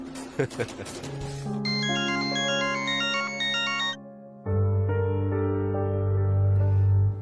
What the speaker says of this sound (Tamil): என்ன இந்த நேரத்துல போனு?